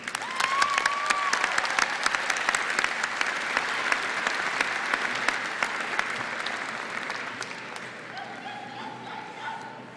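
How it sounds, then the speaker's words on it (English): A graduation crowd breaks into sustained applause, dense overlapping clapping that stays strong for several seconds before easing off, with faint cheers and voices mixed in. "Please join me in giving a round of applause to these wonderful people who have helped us reach this moment"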